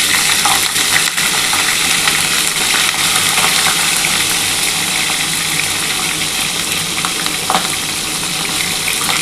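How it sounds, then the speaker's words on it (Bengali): Snakehead fish heads fry in hot oil with a steady, loud, continuous sizzle and crackle, with occasional small clinks, and no talking. "আগে প্রথমে মাথাটা ভেজে তুলে নিচ্ছি"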